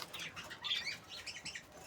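A pet parrot squawks and flaps its wings at close range in a short, busy burst of harsh calls and wingbeats, with no talking.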